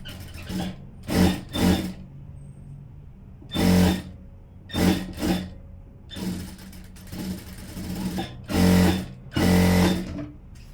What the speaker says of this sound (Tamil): இப்போ இந்த பக்கமாக தையல் போட்டுடுறேன்